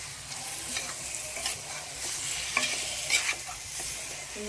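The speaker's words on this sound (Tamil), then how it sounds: "ஊற்றிட்டு இதை நல்லா ஃப்ரை பண்ணணும்." Chicken thokku masala with egg sizzles steadily in a pan while a spoon stirs it, giving a continuous close hiss broken by soft scraping strokes.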